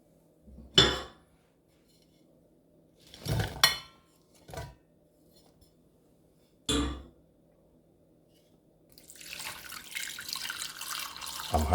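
Water poured into a pot for rosemary apple tea after a few clanks and knocks of the pot, followed by a steady stream building toward the end, no talking.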